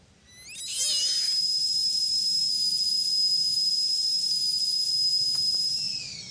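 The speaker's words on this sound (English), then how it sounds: "The screech is turned into a tea whistle also conveniently." A tea kettle whistle, standing in for a screech in a horror film, rises into a long, loud, piercing steady tone that holds for several seconds, then fades.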